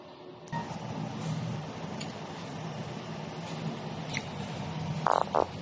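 An inkjet printer runs a nozzle test, giving a low continuous mechanical whir with occasional soft ticks and a short, brighter burst of carriage movement near the end.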